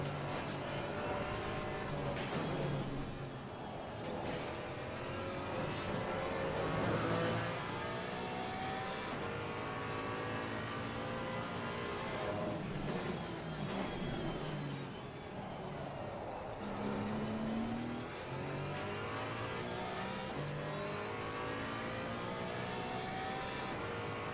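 A GT4 race car in Assetto Corsa Competizione drives on a wet track, its engine rising and falling through repeated accelerations, shifts and revs at a steady moderate level with no voices.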